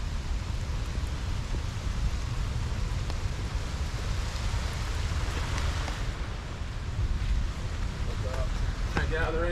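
Steady rain falls outdoors near a gazebo ahead of a storm, a constant broadband hiss with wind noise on the microphone and a few faint voices in the background.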